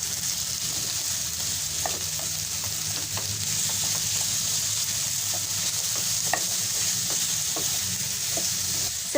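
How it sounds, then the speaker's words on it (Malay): Marinated turmeric chicken frying in hot oil in a pan, a steady close sizzle with occasional pops and spatula scrapes, no talk. "kita masukkan ayam yang diperap tadi dan goreng sampai masak keemasan"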